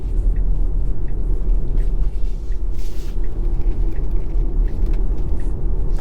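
An electric car being driven hard on Route 256, past the Lighthouse Museum and through roundabouts, gives a steady, loud low rumble of road and tyre noise with no clear breaks.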